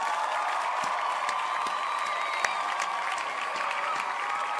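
A short burst of crowd applause plays as a sound effect during a Tekken 8 tournament stream, an even wash of clapping and cheering held at moderate level for under five seconds.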